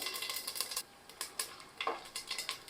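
Whole spices such as a small piece of mace and a spoonful of fennel seeds crackle and pop in hot oil, giving faint, scattered bursts close by with no talk.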